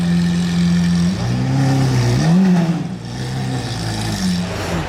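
A Ferrari sports car engine idles loudly on the casino square in Monaco. The deep rumble holds steady, then gives a couple of brief rev blips that rise and fall before it settles back to a steady idle, all close by with no voices.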